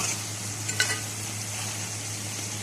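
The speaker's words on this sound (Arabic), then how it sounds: "هشوحها مع بعض شويه" Okra and meat sautéing together in a pot for an okra-and-meat tagine, giving a steady, soft sizzle with a few faint stirring scrapes near the start, close by and with no talk.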